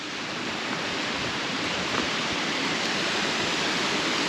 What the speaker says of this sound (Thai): เหมือนน้ำตก